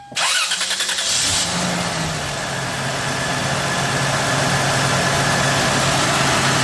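A 1996 Toyota 4Runner with a 5VZ-FE engine cranks briefly and catches, then settles into a steady, smooth idle, close and continuous with no talk.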